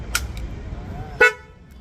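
An extra horn fitted to a customised motorbike gives two short honks, a quick toot followed by a louder, longer blast, close by against a quiet background.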